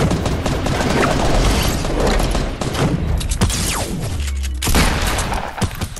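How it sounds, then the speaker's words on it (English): Enemy player's gunfire in a video game, a dense run of loud shots and booming impacts filling the whole moment, with bursts layered over game noise and no talk. "His teammate shoots at me."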